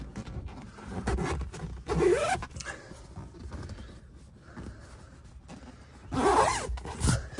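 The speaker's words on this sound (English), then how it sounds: "Zip it up and you're all good to go." A zipper on a custom leather seat cover for a 2019+ Dodge Ram crew cab rear seat is pulled closed in two distinct zipping strokes, close and clear, with quieter handling rustle between them.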